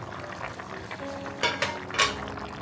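Soft bubbling of a mackerel fish curry simmering in a pot on the stove, steady and close, with a few brief louder hisses and splutters.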